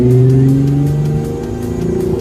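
Car engine revving as heard from inside the cabin with the windows up, a steady muffled drone that rises in pitch and then settles lower, close and fairly loud.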